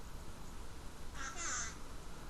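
A pet bird lets out one short, harsh squawk a little past the middle, close by, over quiet indoor background noise.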